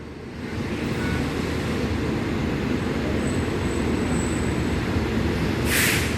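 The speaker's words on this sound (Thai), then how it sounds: "มาแล้วครับ คันนำเป็นเดวู2527" A Thai passenger train led by a 1984 Daewoo locomotive pulls into Rangsit station in the evening, a steady broad rumble of wheels and engine holding close and loud throughout, with a brief high hiss near the end.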